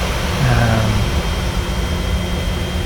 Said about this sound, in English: But the engines are started.